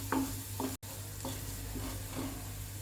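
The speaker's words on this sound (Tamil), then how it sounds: "போட்டு நல்லா வதக்கி விடலாம்." Onions sautéing in a pan for oats Manchurian, with a steady low sizzle broken by a few soft scrapes of a spatula and one brief dropout, with no talking.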